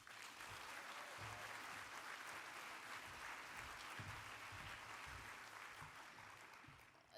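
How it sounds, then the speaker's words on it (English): Sustained audience applause at an annual awards celebration, a dense steady wash of many hands clapping that carries through the whole stretch and eases slightly near the end, with faint low voices underneath. "let's give a big round of applause to Stacy"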